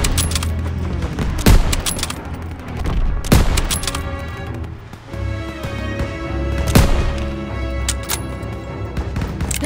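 Dense World War II battle gunfire in Call of Duty WWII: sharp gunshot cracks and bursts at around 1.5, 3.3 and 6.8 seconds stand out over continuous rattling fire and rumbling, with no speech.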